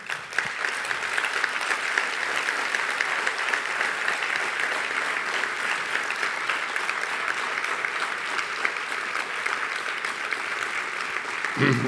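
Sustained applause from a congress audience at an opening session, a dense steady wash of many hands clapping that carries on throughout and ends abruptly.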